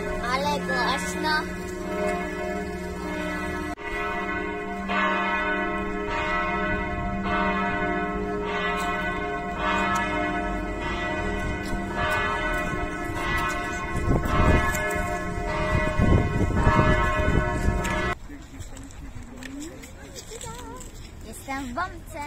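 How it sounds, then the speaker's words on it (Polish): Church bells peal loudly and repeatedly in Elbląg's Old Town, rich overlapping tones ringing on for a long stretch before cutting off, with voices talking beneath. "Teraz biją dzwony."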